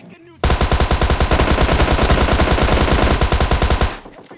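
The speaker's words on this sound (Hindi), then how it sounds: "अब क्योंकि मेरे पास यहाँ पर थॉमसन होती है, वो भी 50 बुलेट्स के साथ, मतलब प्री फायर देते गया मैं" A Thompson submachine gun with a 50-round magazine fires in PUBG Mobile Lite, one long, loud, rapid continuous burst lasting several seconds with evenly spaced cracks, then stops abruptly.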